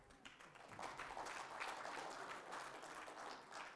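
An audience at a SQL Server conference keynote applauds a prize winner, a dense, steady patter of many hands clapping that swells and holds, fairly faint and distant, with no talking over it.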